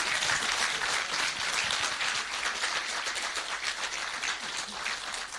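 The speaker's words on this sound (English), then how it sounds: "how about a clap for them?" An event audience gives warm, continuous applause for the Panasonic team at a filmmaking challenge, moderately loud and evenly sustained.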